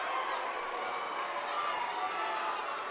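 Home crowd at a New Palestine high school sectional basketball game against Richmond, a dense continuous roar of cheering that holds steady throughout, loud and enveloping.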